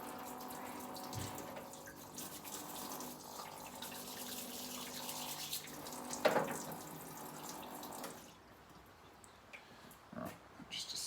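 A small part from a Stihl 200T chainsaw is rinsed under a running tap, with water splashing steadily into a sink for about eight seconds before cutting off, followed by a few faint clinks.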